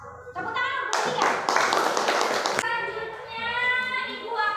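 A classroom of children claps for a student group after their presentation, a short burst of applause lasting under two seconds with children's voices chattering before and after it.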